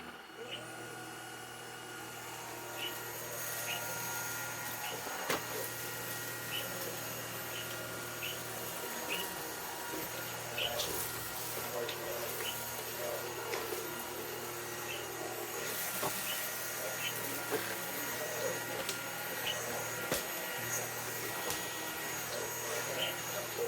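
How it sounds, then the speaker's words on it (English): A Klarpul KL-001 cordless vacuum cleaner whirs steadily at close range, with a high whine and small rattles as debris and feathers are sucked up. "Let's see what this 5-second-old vacuum cleaner can do with this."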